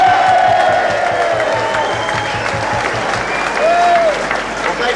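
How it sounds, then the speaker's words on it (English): Evening dinner audience applauding and cheering as Essendon Football Club president Greg Searle is introduced, loud continuous clapping with a few whoops that swells and then eases near the end. "Cheer for the president of the Essendon Football Club"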